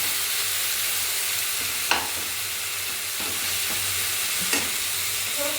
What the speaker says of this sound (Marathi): कांदा, टोमॅटो सगळं छान भाजून घ्यायचं.